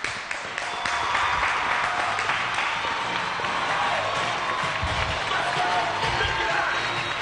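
An audience at a televised interview show applauds and cheers as a freeride ski champion guest arrives, loud dense clapping starting after a brief lull and holding steady with a few whoops and low thumps mixed in.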